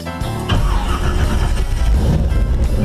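Classic car engine at the Woodward Dream Cruise fires up and settles into a loud, steady low rumble close by, with no talk over it.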